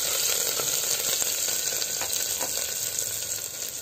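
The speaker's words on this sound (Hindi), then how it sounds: "अब मैं इसमें डाल रही हूँ प्याज। इसको हम कर देंगे मिक्स चम्मच से इस तरह से।" Onion sizzles steadily in hot oil with cumin seeds, a spoon stirring through it with faint scrapes, the frying hiss loud and continuous throughout without talk.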